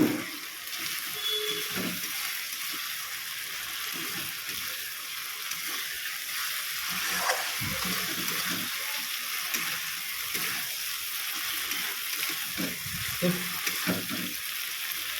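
Katla fish fries in a cooked-down spice paste and released oil, giving a steady sizzle with intermittent scraping and stirring clatter, all close and at an even level.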